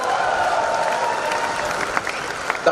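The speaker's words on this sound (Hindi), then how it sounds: "जोरदार तालियां।" Applause with some cheering from a crowd at an Amway celebration event honouring new Diamonds, a dense steady wash of clapping filling the whole stretch, with a few sharper claps near the end.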